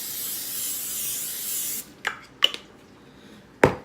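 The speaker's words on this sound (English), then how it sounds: "I'm going to spray some cooking spray in here so it would not stick to the pan as much" Pam cooking spray hisses steadily into a baking dish for almost two seconds, then stops, followed by a few short rubbing and handling sounds close by.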